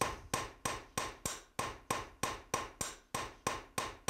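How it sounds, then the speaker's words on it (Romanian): A small hammer strikes a handcrafted silver ring in a traditional jeweller's workshop, giving about a dozen sharp, evenly spaced metallic taps that are close and clear, with no talking. "Acum îi dăm cu un ciocan mai mic ca să poată să-i luăm din daturile cele mai mari"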